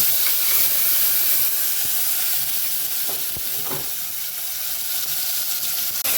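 Loud, steady sizzling and hissing of onion and tomato frying in hot oil with cumin and mustard seeds, with a few faint clinks of stirring.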